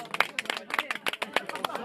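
Scattered hand clapping from guests at a couple's engagement party, a loose run of sharp claps mixed with crowd chatter and people talking nearby.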